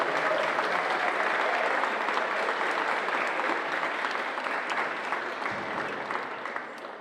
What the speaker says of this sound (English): Big round of applause for Abilara Handball Club.